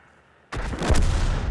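A single loud, heavy boom as a tank cannon fires in World of Tanks, bursting out of near-silence and rolling on in a deep rumbling echo.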